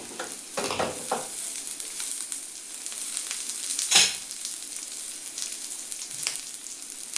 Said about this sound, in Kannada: ಪ್ಯಾನಿಗೆ ಎಣ್ಣೆ ಈರುಳ್ಳಿ ಹಾಕ್ಬಿಟ್ಟು ಚೆನ್ನಾಗಿ ಫ್ರೈ ಮಾಡ್ಕೋಬೇಕು